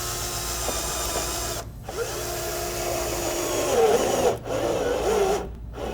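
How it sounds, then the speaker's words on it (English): Self-tapping screw driven by a power drill through an overlapping metal roof chimney flashing seam and its sealing gasket, a steady whirring grind with rising pitch, stopping briefly and resuming in short bursts. "So he's going to go right through this overlap and through the gasket, and the gasket will be our seal underneath this particular."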